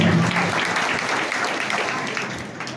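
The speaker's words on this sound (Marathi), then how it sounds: "जोरदार टाळ्या जोरदार" A burst of enthusiastic clapping from an audience at a Buddha statue distribution ceremony, loud at first and gradually tapering off.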